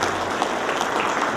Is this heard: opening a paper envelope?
no